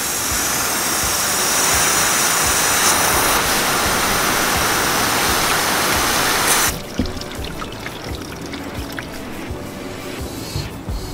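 Water pours off a car's cowl and drains along the side into the gutter area, a loud continuous rushing splash that cuts off abruptly partway through, leaving a softer trickle and dripping.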